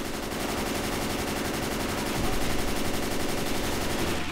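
Sustained rapid automatic gunfire from the zombie shooter Left 4 Dead 2 rattles on without pause, loud and dense, a steady stream of shots with a brief thump partway through.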